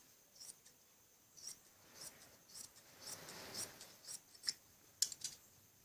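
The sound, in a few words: scissors cutting extra fabric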